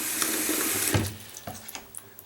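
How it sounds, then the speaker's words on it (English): Tap water runs steadily into a clogged sink basin, a continuous loud splashing rush that eases slightly partway through, with a few soft knocks and clatters near the end. "I left this water on because I want you to see"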